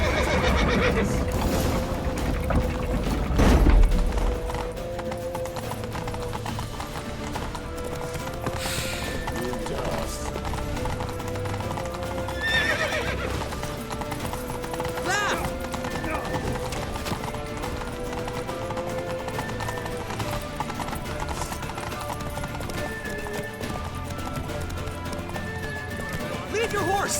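Horses gallop in The Witcher 3 with steady, rapid hoofbeats and an occasional whinny, mixed with game music and shouted character dialogue throughout.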